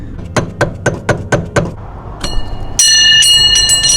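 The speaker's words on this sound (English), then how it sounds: "Maybe use a hammer to tap it in like I'm doing." A hammer taps a rear subframe insert cap into an Audi B9 SQ5 subframe, giving about seven sharp, evenly spaced metallic knocks up close, followed by a brief scrape and then a steady high ringing tone.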